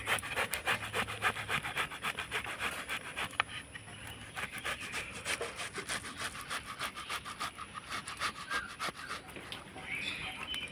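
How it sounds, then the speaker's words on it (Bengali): A ripe mango is grated on a kitchen grater, giving repeated rhythmic rasping strokes at close range, fairly quiet and steady, with faint background sound. "এবার আমি আমটাকে গ্রেট করে নেব তার জন্য একটা গেটার নিয়েছি"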